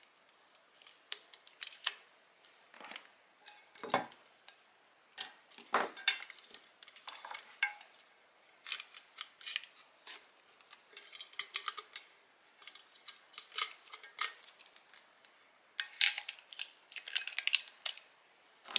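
Protective wrap being peeled and torn off a 20 oz sublimated skinny tumbler after heat pressing, with crinkly rustling and scratchy tearing in irregular bursts, close and fairly quiet, with no talking.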